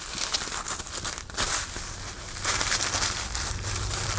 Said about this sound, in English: So I'm just going to fold this end in a little bit.